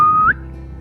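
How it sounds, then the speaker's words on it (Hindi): A single short wolf whistle from young men teasing a girl, one bright sustained note sliding upward at the end and cutting off sharply, loud and alone. "आए दिन कोई ना कोई लड़का सीटी मारकर उसे छेड़ा करते थे"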